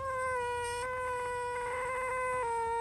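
A constipated kitten straining to poop, heard through a played video, giving a sustained, high, tonal wailing cry that wavers slightly in pitch over a steady background.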